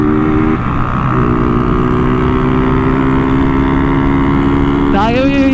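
A small motorcycle engine runs loud and close with a steady droning hum, rising sharply in pitch near the end as it revs; people talk over it.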